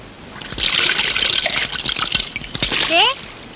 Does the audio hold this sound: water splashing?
yes